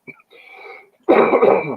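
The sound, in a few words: dry cough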